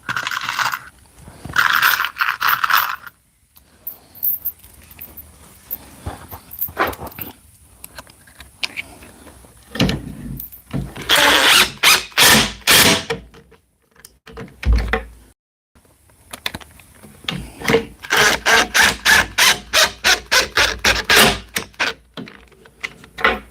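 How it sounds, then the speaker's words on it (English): A power driver sinks screws into half-inch plywood while building a bookshelf, heard as several loud bursts of rapid clicking and whirring separated by quiet pauses. "I can go ahead and drive my screws."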